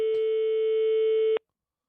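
A single steady telephone tone on an outgoing call, loud and continuous for about a second and a half before cutting off abruptly, with a faint click at the start and end.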